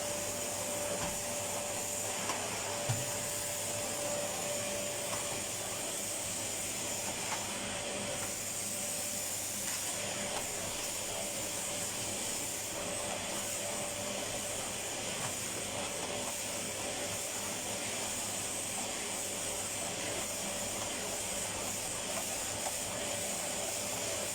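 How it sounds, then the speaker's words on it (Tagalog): A vacuum cleaner runs steadily with a loud, constant hissing whine, close by, with no pauses. "Ganyan ang paglilinis gamit ang vacuum"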